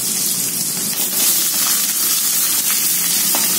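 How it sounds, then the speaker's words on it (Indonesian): Chopped spices and chicken sizzle steadily in a hot wok while being stir-fried for an Indonesian chicken and button mushroom dish, a dense, close frying hiss with faint scraping. "Ini kita tumis ya, bumbu rajangannya"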